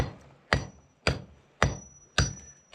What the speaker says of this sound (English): It's just for chipping off the face, really, so it's got points on it.